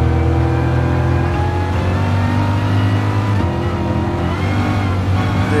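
A BMW race car engine in Gran Turismo VR hums and revs steadily at a loud, constant level with a smooth, sustained whir and slight pitch shifts, and no talking.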